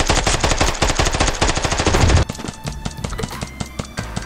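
Gunfire in the mobile shooter game Standoff 2, a fast, loud automatic burst for about two seconds, then scattered single shots and lighter clatter.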